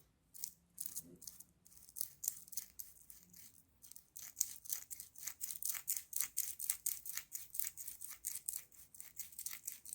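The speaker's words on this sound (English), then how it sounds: "rubbing it down with a bit of sandpaper, getting the edges off the hexagon" Coarse sandpaper rasps back and forth over the edges and corners of a plastic hexagon on a toy pink tractor part, quiet close strokes in a quickening rhythm of short scratchy bursts.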